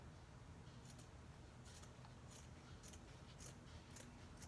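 Scissors snip repeatedly in a steady rhythm, about seven crisp cuts close by over a quiet hiss.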